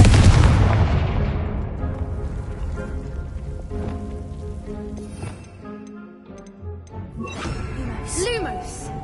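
A Confringo fire spell explodes in the Hogwarts Legacy video game, a loud boom at the start that rumbles and fades over several seconds beneath game music and effects.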